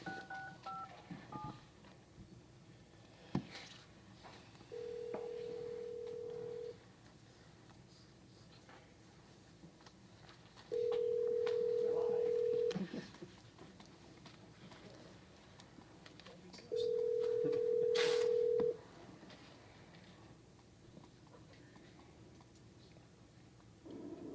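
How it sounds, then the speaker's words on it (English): Three touch-tone DTMF dialing beeps sound in separate bursts, spaced several seconds apart, as a phone number is keyed in to bring a councilman into a city council meeting by telephone, with soft room noise between tones. "I probably don't need to dial the 712. 363. 6657."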